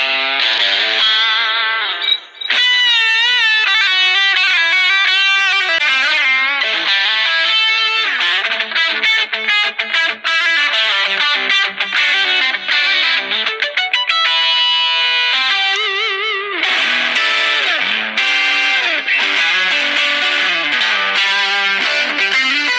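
An instrument plays through a Positive Grid Spark Go portable amp with heavily distorted, effects-laden tones, loud and continuous with a steady stream of notes and only a brief dip near the start.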